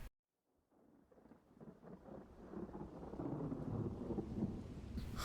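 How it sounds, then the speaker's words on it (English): Stock rain and thunder sound effect opening an album track: after a brief silence, a low rumble of thunder builds under steady rain, growing louder and continuous. "It's just stock rain sound effect."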